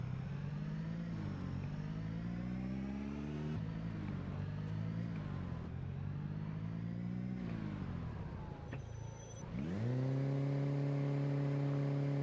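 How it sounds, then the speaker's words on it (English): A car engine in the zombie survival game Project Zomboid drones steadily, its pitch dipping and climbing as it revs, briefly falling away before a strong, louder idle returns; no voices heard. "they heard the car engine"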